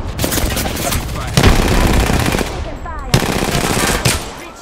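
Rapid automatic gunfire in the video game Apex Legends, loud and close, coming in dense bursts with brief gaps between them.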